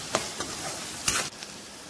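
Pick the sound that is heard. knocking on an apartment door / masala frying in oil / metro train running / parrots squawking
masala frying in oil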